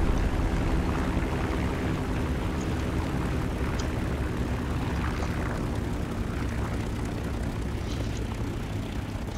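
Propeller aircraft engine droning steadily and loudly in War Thunder as the plane comes down to land on a road, a constant low roar with faint scattered clicks and no talk.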